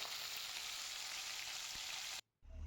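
Fish pieces sizzle and crackle in hot oil as a dense, steady frying hiss, close and loud, broken by a brief silent gap near the end before the sizzle resumes.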